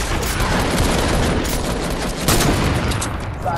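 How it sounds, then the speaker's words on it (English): Rapid gunfire from the video game Fortnite, a dense, loud barrage of shots filling the whole stretch with little pause between them. "Yeah, I sniped him, and then I finished him off."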